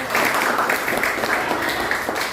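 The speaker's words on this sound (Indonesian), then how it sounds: "beri aplaus" Classroom applause from a group of students: dense, continuous clapping at moderate loudness lasting a couple of seconds, with no talking over it.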